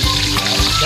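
Pompano fish frying in hot oil in a pan gives a close, steady sizzle with crackling spits throughout a brief moment, no voices.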